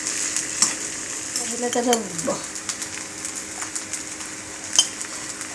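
Sago pearls stirred and frying in a pan for a Marathi fasting dish, a steady sizzle with scraping stir strokes and a brief clink of a utensil near the end, one short word spoken.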